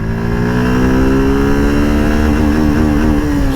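A Suzuki Gixxer SF 150 motorcycle accelerates hard through the gears on an open road, its engine note climbing steadily in pitch, loud and close, with continuous wind rush and no talking.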